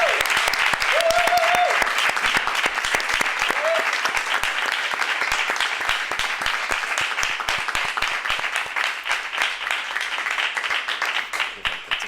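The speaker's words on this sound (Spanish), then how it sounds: "Un aplauso" An audience applauds a drama school professor arriving as a guest, a long run of steady clapping with individual claps standing out as it thins, and brief whoops over it early on.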